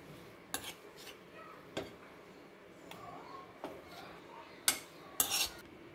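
Sautéed mint for a pickle is scooped from a pan into a mixer jar: sparse metallic clinks and scrapes of a spoon against cookware, close and fairly quiet, with a brief burst of clatter near the end.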